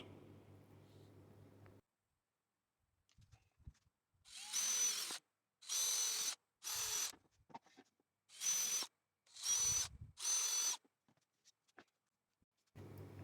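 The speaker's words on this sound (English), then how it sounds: "Then I go on to drill those holes." A power drill drills screw holes in wood in six short bursts, each a second or so long, with quiet pauses and faint handling noises between them.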